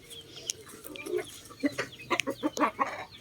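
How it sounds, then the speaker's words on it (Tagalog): A hen on a chicken farm clucks after laying an egg, a series of close, uneven clucks that grow busier toward the end against a quiet background. "So that's that a hen laying there."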